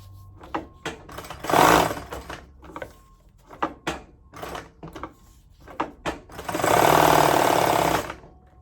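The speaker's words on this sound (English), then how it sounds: "Raise your foot, pivot, and continue sewing." A Consew 206RB-1 industrial sewing machine fitted with a needle positioner stitches fabric in short runs, stopping and starting with clunks and clicks between them, then a longer steady burst of stitching near the end.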